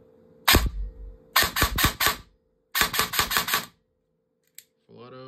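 A CYMA CM018 airsoft rifle on a small 11.1 volt battery fires semi-auto in sharp close cracks: one shot, then a quick string of five, then another string of five, with a steady motor hum underneath.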